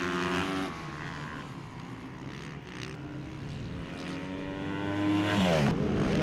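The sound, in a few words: supermoto motorcycles racing on a circuit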